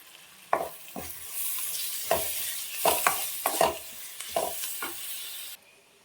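A spoon stirs a turmeric and coriander tempering in a hot pan for avalakki, with a steady sizzle of oil under repeated scraping strokes, close and fairly loud, no voices.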